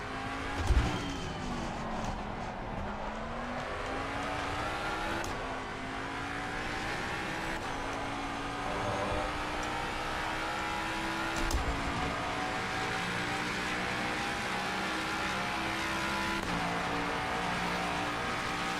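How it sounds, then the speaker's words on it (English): A Corvette race car engine in the racing game Assetto Corsa Competizione roars continuously, its pitch sweeping up and down through gear changes, with a brief tire squeal or bump; loud and steady throughout. "How's the Corvette sound from over there, KP?"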